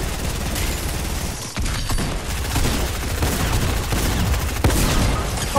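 Shotgun fire in a video game comes as dense, continuous loud gunfire and blasts throughout, with rapid overlapping shots and no clear gaps.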